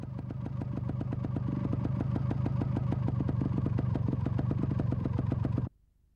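A trials motorcycle clatters over obstacle steps, its engine putting out a rapid, steady, loud chugging pulse that holds for several seconds and then cuts off abruptly into near silence.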